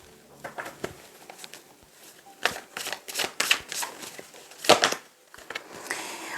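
Tarot cards are shuffled by hand in quick, uneven bursts of papery riffling and patter, close and fairly loud, with no talk.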